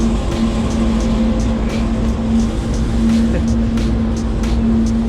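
A train passes near Lavon Dam, heard from a kayak on the water below as a steady, loud, continuous rumble with a droning hum throughout and faint ticking sounds on top.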